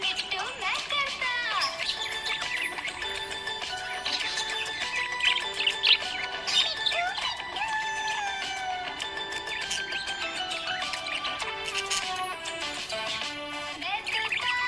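Happy pet budgie chirping steadily, a dense run of bright tweets and short warbling calls over a faint background, with no talking.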